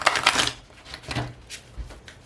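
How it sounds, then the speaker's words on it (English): A brief, rough shuffle of an oracle or tarot card deck, with quick riffling flutters and soft taps over about two seconds, close by. "well, that was just a crappy shuffle"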